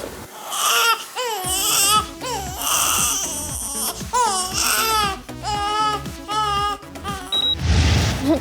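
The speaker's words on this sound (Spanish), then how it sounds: "vamos a escuchar este llanto indeciso" A hungry infant cries in repeated wailing bursts with brief gasps between them, rising and falling in pitch, loud and close with no other voices.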